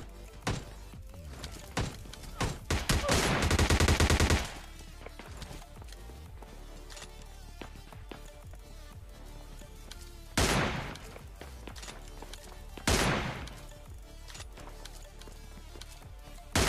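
Gunfire in the mobile battle-royale game PUBG Lite, with bursts of rapid shots, one long dense volley early and two shorter later bursts, mixed with scattered clicks and thuds and faint background noise.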